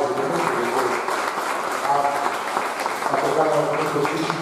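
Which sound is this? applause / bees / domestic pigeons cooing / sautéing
applause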